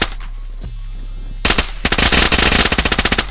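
M4 rifle fire in the video game DayZ: a single shot, then after a short pause a fast, loud burst of rapid automatic fire, close and sharp, with no voices.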